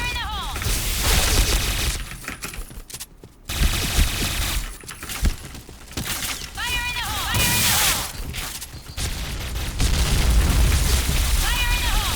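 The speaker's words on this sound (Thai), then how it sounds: "ระเบิด" Loud booming explosions and bursts of gunfire, including from a Kriss SV, in the game Point Blank, dense and continuous, with sound effects and music filling the mix.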